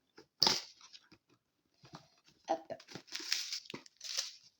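A gift parcel being unwrapped, close and quiet, with crinkling and tearing bursts of packaging separated by brief pauses and a cluster of rustles near the end.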